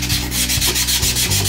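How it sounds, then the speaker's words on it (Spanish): Rhythmic back-and-forth rubbing of fine sandpaper on a ceramic piece, several close scratchy strokes in steady succession. "Con una lija finita"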